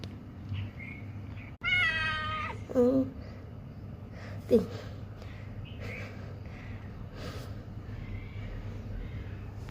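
A cat gives a few distinct meows, one long and drawn out, then shorter ones, close by over a low steady hum.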